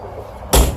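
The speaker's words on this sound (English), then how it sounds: "This uses a slightly thinner baggage door." A slightly thinner baggage door on a Jayco 357MDOK fifth wheel RV swings shut with a single sharp, loud slam after a quiet moment.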